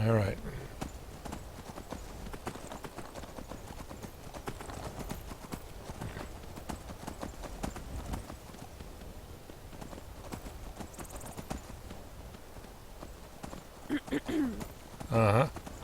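Steady rapid clip-clop of horse hooves galloping in Skyrim, a video game, throughout, with brief voices talking near the end.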